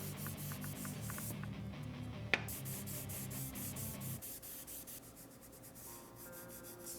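Wood being hand sanded with 300 grit sandpaper for a headphone stand diorama, a steady close scratchy rubbing that runs continuously with one brief knock partway through.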